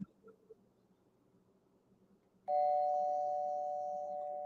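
A doorbell rings once, a sudden bright electronic tone that cuts in halfway and sustains as it slowly fades, after a stretch of quiet room sound.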